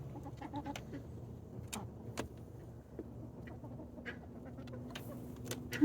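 A hen clucks softly at close range, giving scattered short calls over quiet farmyard background with low hum.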